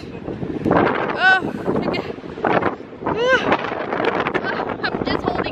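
Strong wind buffets the microphone at the top of Gatteville Lighthouse, roaring in gusts beneath anxious voices speaking throughout.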